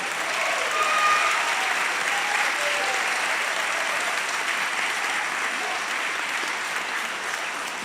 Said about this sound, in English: Let's have a round of applause for this group.